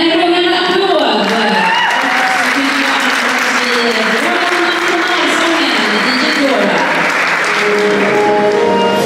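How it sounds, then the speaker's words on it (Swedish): Loud, sustained applause from a large crowd at a prize-giving ceremony for a Swedish championship event, dense clapping filling the whole stretch with cheering voices mixed in. "Vi ger killarna en rungande applåd."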